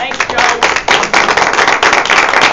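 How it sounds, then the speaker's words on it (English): A small village board meeting audience stands and claps for Joe, brisk uneven handclaps close by and fairly loud, with a voice briefly audible among them. "Can we just stand and give him a round of applause?"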